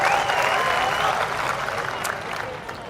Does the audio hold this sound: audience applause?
yes